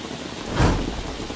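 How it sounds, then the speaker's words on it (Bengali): Heavy rain pours onto a flooded town street in Joypurhat, a dense steady hiss of downpour that swells briefly with a low rumble midway. "প্রচন্ড বৃষ্টি হচ্ছে"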